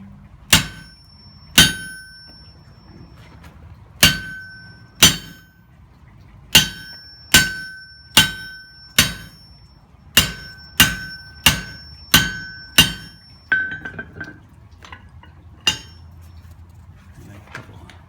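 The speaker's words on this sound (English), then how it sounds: "guess I better get my hammer, haven't I?" Hot metal struck with a hammer on a blacksmith's guillotine tool, giving about twenty loud, ringing metallic clangs in uneven bursts, close up, with no talk.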